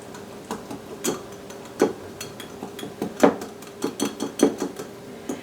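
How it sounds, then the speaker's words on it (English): A spoon clinks and taps irregularly against a bowl while red chili flakes and smoked paprika are stirred in, sharp close knocks spaced over several seconds with no talking. "I'm going to start stirring this up"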